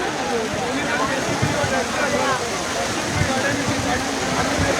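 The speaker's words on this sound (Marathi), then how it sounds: "आवाज बघ पावसाचा आणि बघ थांबत" Heavy rain pours down over an open-air bullock cart race, a dense, steady hiss of water striking the ground with low thuds mixed in, while voices murmur faintly beneath the downpour.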